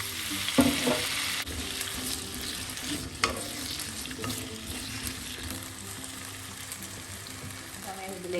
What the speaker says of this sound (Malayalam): എണ്ണ ചൂടാകുമ്പോൾ നമുക്ക് ഉരുളക്കിഴങ്ങ് ഇട്ടൊന്ന് ചെറുതായി ഫ്രൈ ചെയ്ത് കൊടുക്കാം